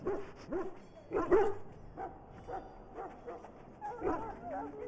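A dog in the video game Dragon Age: Origins barks and whimpers in a series of short yips and woofs, fairly close, repeated throughout with brief pauses.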